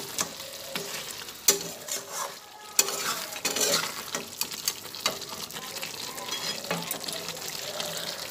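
Chicken pieces for murg malai are stirred in a pan as they cook in their own juices, with wet, squelching scrapes and clanks of a spoon over a low, continuous sizzle, close and fairly loud.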